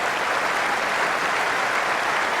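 Cricket crowd at The Oval during the 2005 Ashes Test applauds Justin Langer reaching 7,000 Test runs, sustained dense clapping from a large stadium audience, loud and steady.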